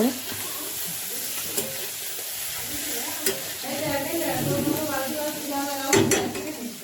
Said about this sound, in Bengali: চলো নুন হলুদটা মাখিয়ে ভেজে ফেলি